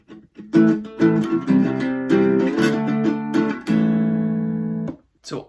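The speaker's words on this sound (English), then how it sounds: "So all of line 2 would sound like this." Acoustic guitar strumming the second line of the intro to a song in the live looping version, a few rhythmic strums on changing chords, then a final ringing down strum, close and alone.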